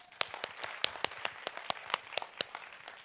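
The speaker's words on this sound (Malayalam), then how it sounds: "ഒന്ന് കൈയടിച്ചേ." Children clapping their hands at a students' storytelling session: about a dozen sharp, fairly faint claps in a loose, uneven rhythm, with no talking.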